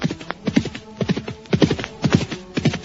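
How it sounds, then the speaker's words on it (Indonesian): Horses galloping with rapid, rhythmic hoof clip-clop beats, close and clear, in repeating bursts throughout with no talk over them. "Sekarang Samara dan Rakeh Jangkung berkuda menuju istana Kapopongan."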